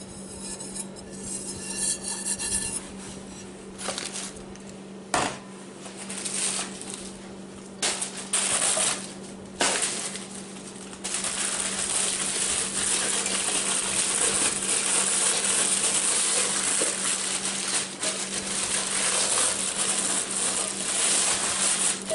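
A Gotham Steel cookware set of nonstick frying pans and their lids is handled at close range, with metal clinks and scrapes, rattles and a sharp clatter over a steady background hum.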